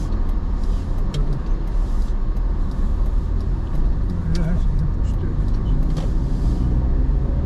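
Cars pass on a road in Tampere's Kaukajärvi area in Finland, with a steady loud rumble of engines and tyres, heard from inside a moving car, and someone talks throughout.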